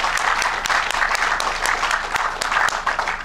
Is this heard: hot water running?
no